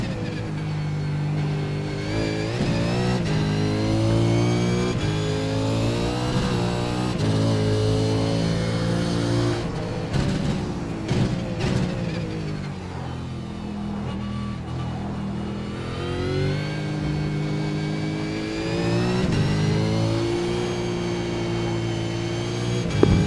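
V8 Supercar engine at Zolder in the iRacing video game, revving hard and rising and falling through gear changes while drifting, loud and continuous with no voices.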